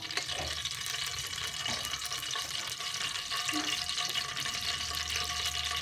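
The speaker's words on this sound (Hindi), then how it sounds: "ये देखो, पहले घी को गर्म करेंगे अच्छे तरीके से।" Ghee heats in a pan with a steady, close sizzle and crackle, a continuous frying hiss that holds at an even level throughout, with no voices.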